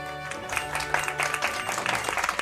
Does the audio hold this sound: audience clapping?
yes